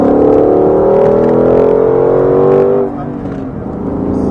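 A car accelerates hard on a track: a loud engine roar climbs steadily in pitch, breaks off briefly around a gear change, then builds again from close inside the cabin.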